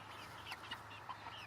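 Chickens cluck in short soft bursts nearby over a low steady background hum, a few quiet calls scattered across a brief moment.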